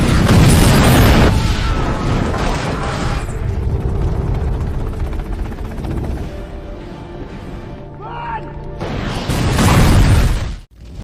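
A long roar of heavy explosions from a fighter jet bombing a city in a zombie film, booming and crashing continuously, dipping briefly in the middle before surging loudly again and cutting off abruptly.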